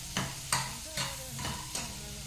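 Capsicum and onion fry in a pan for chilli chicken, stirred in several sharp scraping strokes at a steady pace over a soft background sizzle.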